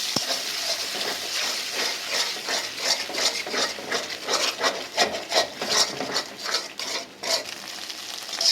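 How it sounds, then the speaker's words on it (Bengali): Two eggs frying in hot oil in a pan, a close bright sizzle broken by rhythmic scraping and stirring strokes of a spatula, with no talking. "এখন আমি ডিমটা একটু ভেজে নিব"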